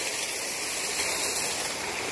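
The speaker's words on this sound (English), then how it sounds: "Another waterfall without Chippy." Steady broadband rush of falling water from a waterfall at Atlantis resort in the Bahamas, a continuous roar with no breaks or voices over it.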